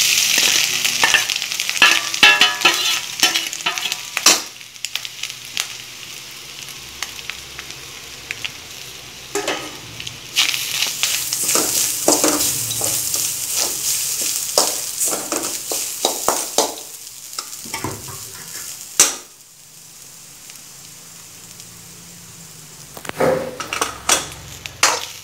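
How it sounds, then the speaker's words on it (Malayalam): Half a grated coconut being dry-roasted to light brown in a Kerala cheenachatti, with continuous frying hiss, frequent scraping and clattering of the stirring spoon, and a brief quieter pause near the end. "കുറച്ച് ബ്രൗൺ കളറാകണത് ചീനച്ചട്ടിയിലേക്ക് നല്ലപോലെ വറുത്തെടുക്കാം."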